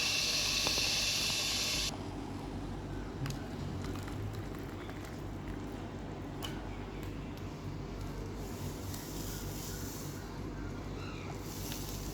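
Water heating for an instant cappuccino: a steady broadband hiss and rumble of boiling, loud and continuous, with a brighter burst of hiss at the start that drops off after about two seconds.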